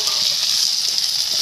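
Drumsticks tossed into a hot pan for a small-fish curry set off a steady, close sizzle, a bright hiss that holds even and unbroken throughout with no voices.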